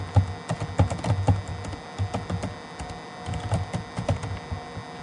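Typing a campaign title on a computer keyboard, with close, crisp key clicks in quick irregular bursts and brief pauses between words.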